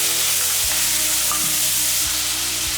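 Tomatoes dropped into a pan of frying onion and garlic for a Tamil-style gravy, a loud, constant sizzle with occasional low thumps and stirring scrapes close by.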